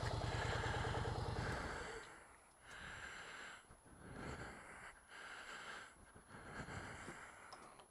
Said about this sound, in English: Let me just turn this bike off.